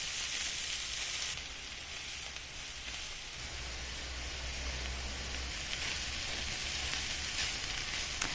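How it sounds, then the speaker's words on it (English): Onions and leaves sautéing in butter make a continuous soft sizzle throughout, moderately quiet and steady, with a faint clink at the very end. "The butter will melt in along with the onions that are getting sauteed."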